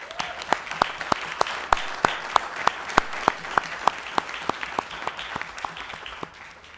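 Audience applause at a city council meeting. Sharp claps ring out across the whole stretch, moderately close and steady, over a murmuring room, then taper off near the end.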